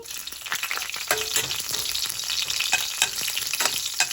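Green chillies and fennel seeds fry in hot oil with a dense crackling sizzle and scattered spoon scrapes and taps from stirring, close and steady, with no voices.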